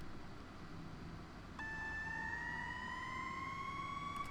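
A clear synth tone enters abruptly and slowly glides upward in pitch, sustained over a faint background hiss.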